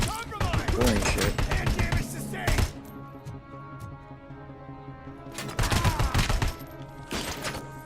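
Rapid bursts of gunfire in the RoboCop video game, loud and close, in two long stretches separated by a quieter pause, with a voice talking over the action.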